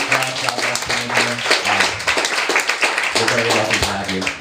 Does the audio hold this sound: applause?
yes